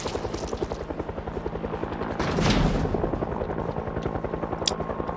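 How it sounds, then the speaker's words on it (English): Helicopter in Project Zomboid, its rotor beating in a steady rapid chop throughout, moderately loud and swelling slightly near the middle, with faint sharp game sounds around it. "as you can hear, that helicopter's out there."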